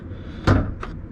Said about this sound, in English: So first you're going to open the door